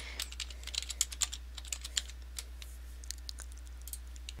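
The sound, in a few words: typing on a computer keyboard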